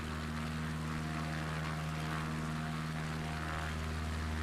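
Steady, droning aircraft engine hum from a plane in Microsoft Flight Simulator 2024, a constant propeller-like tone with no pauses or speech.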